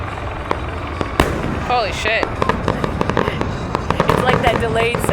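Fireworks at the Washington DC 4th of July show pop and crackle in a steady barrage of sharp bursts, with a crowd talking and cheering close by throughout.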